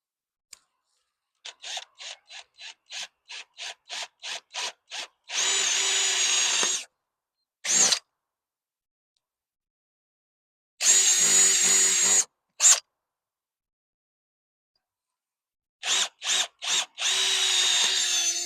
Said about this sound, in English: I couldn't keep the drill stable